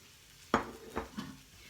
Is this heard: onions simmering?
yes